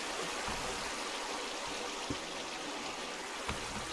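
Flowing river water from Minecraft rushes steadily and loudly, a continuous close wash with a couple of faint soft ticks.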